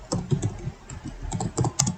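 Close, brisk typing on a computer keyboard while entering SQL table data, with quick irregular keystrokes coming in short bursts and brief pauses between them.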